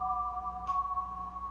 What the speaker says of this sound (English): what I found in here was this really nice bell sound